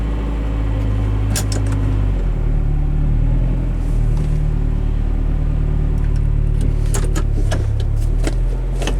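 A 1995 Geo Tracker LSi's engine runs steadily while the SUV is put in reverse, a continuous low idle rumble close by with a few light mechanical clicks and ticks over it.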